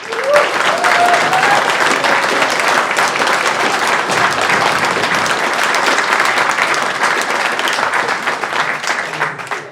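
Wedding guests break into loud, sustained applause, a dense continuous roar of many hands clapping for nearly ten seconds, with a brief voice or cheer rising early on.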